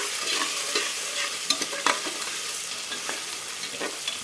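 Ginger, garlic and whole spices including clove stirred while frying in hot oil for mutton biryani: a bright, steady sizzle with repeated scraping strokes of a spoon in the pan, close and clear, no voices.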